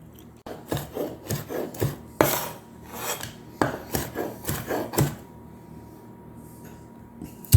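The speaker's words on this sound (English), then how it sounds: "So I'm gonna cut this up and get it on the plate" Knife sawing through crispy air-fried pork belly on a board, a run of rhythmic rasping cuts and knocks, then a clink of plating, close and distinct.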